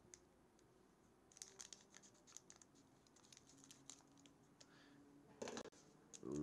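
Scissors snip open a Pokemon trading card pack, a quiet close-up sequence of small cuts and crinkling foil, then a sharper rustle as the wrapper is pulled apart near the end.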